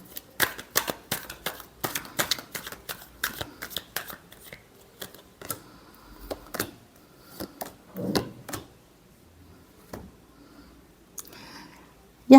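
Tarot cards being shuffled up close in a series of quick crisp riffles and taps, with pauses in between and a louder burst near the end.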